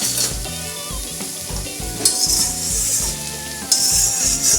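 Ginger fries in an old, blackened wok with a loud, steady sizzle. Rhythmic scraping stirs keep time underneath, and two brighter bursts of spitting oil flare up. No one speaks.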